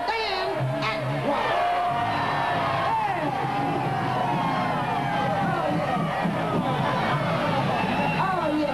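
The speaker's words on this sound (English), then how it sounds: "How about a big round of applause for a man that don't need no introduction?" A concert audience at a blues show at FitzGerald's in Chicago cheers, whoops and yells with crowd babble throughout, while a voice speaks over the noise.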